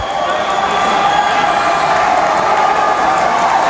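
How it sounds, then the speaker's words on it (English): A crowd cheers and roars steadily and loudly throughout a wheelchair slalom Super G race at a veterans' wheelchair games, forming a dense, continuous wash of sound with no break. "The crowd's letting them hear it."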